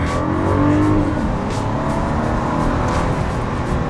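A car launching and driving while tracked overhead by a Skydio 2 drone, a steady, fairly loud engine and road rumble running throughout with no voices.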